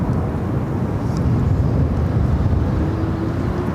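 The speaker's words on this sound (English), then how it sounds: "This is American Airlines 535 Good morning. headed to Newark on an A321. Visual separation, runway 7 left" An American Airlines A321 jet on its takeoff run from runway 7 left at Phoenix: a steady, loud, broadband engine roar with a rumbling low end, continuous and unbroken throughout, with no talk.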